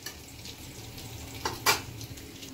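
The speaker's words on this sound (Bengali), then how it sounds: "প্রথমে পটলগুলো ভেজে নিয়েছি, ভালো করে দেখো আমার প্রায় ভাজা হয়ে গেছে।" Pieces of pointed gourd fry in oil in a pan with a soft, steady sizzle, broken by two quick clinks or scrapes of a stirring utensil near the middle; no one speaks.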